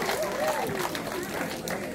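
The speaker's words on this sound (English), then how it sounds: "Big round of applause, guys." Audience applause at a tiger show at Australia Zoo: a broad, steady patter of clapping from a crowd, with a voice talking over it.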